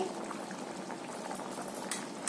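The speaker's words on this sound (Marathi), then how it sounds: "आता चांगली उकळी आली बघा" A potato curry coming to a boil in a pot, a soft continuous bubbling and gurgling close by, fairly quiet and even throughout.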